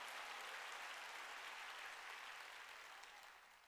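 A church congregation applauds at a sermon gathering, a dense, steady wash of many hands clapping that fades slightly toward the end.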